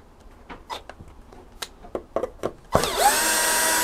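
Power drill driving a new, longer self-tapping screw into a hinge after a broken one was removed; a few soft clicks and handling knocks come first, then the drill starts suddenly and whirs steadily and loudly to the end.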